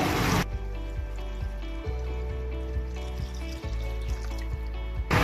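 Five cups of water pour into a cooking pot for chicken nihari after the spices are strained out, a steady continuous trickling and splashing that runs almost the whole time, close by.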